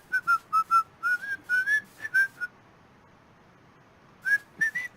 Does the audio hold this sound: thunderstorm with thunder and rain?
no